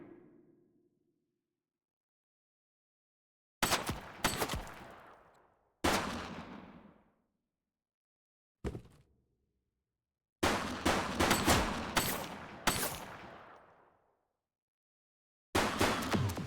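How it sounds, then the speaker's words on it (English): Gunfire in the police video game The Precinct. Loud bursts of shots come in separate volleys, some rapid and automatic, each trailing off into echo, with silent gaps between them. "He's shooting!"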